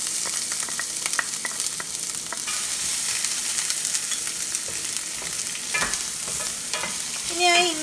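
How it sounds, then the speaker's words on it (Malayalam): Chopped green chilli, ginger and garlic sizzle steadily in a hot pan while being stirred, with a constant close frying hiss and occasional scraping spatula strokes, no voices. "ഇനി ആ ഇഞ്ചിയുടെയും വെളുത്തുള്ളിയുടെയും ഒക്കെ പച്ചമണം ഒന്ന് മാറണം. അതുവരെ ഒന്ന് വഴറ്റി കൊടുക്കാം."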